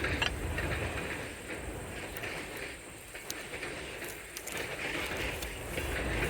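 A passing train rumbles steadily throughout, a broad continuous roar with faint rhythmic clatter and small metallic ticks, holding fairly even loudness before swelling again toward the end.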